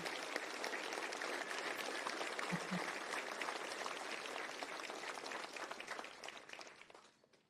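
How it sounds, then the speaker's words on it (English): Applause from an audience at a Normandy landing anniversary ceremony fills the whole span, dense steady clapping from many hands that holds level, then fades out in the final second. "give them a round of applause"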